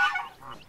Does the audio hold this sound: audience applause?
no